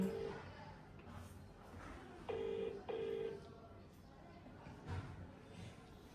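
A telephone call ringing: faint, short repeated tonal beeps over quiet background noise.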